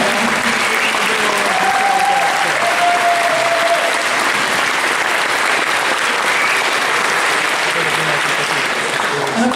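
Dense, steady applause from an audience at an official school inauguration ceremony, loud and sustained without a break, with a faint crowd murmur underneath.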